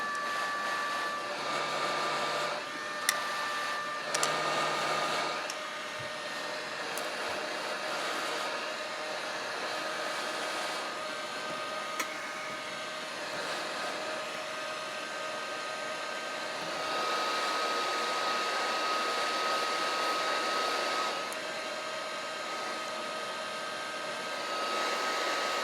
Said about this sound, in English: Just going to get a little heat on it to dry it off.